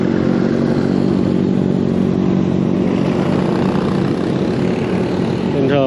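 Steady engine drone of a motorcycle riding along a busy city street in Saigon, loud and continuous throughout with traffic noise around it, and a brief rising whine near the end.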